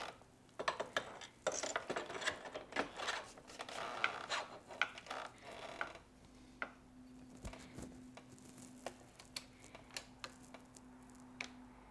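A ratchet lightly snugs the fork clamp pinch bolts on a Honda Grom motorcycle, giving a run of quick, close clicking bursts with brief pauses and then a few sparse clicks over a faint steady hum.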